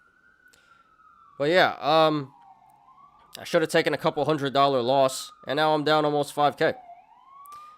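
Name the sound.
emergency vehicle siren passing outside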